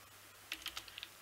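A short burst of keystrokes on a computer keyboard, about half a dozen quick, close clicks in an uneven rhythm over a quiet background.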